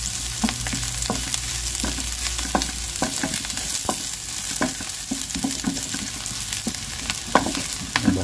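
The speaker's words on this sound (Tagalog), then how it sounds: "Gisa lang natin." Aromatics sauté in a hot pan, a steady close sizzle broken by frequent sharp clinks and scrapes of a utensil stirring, with no talking.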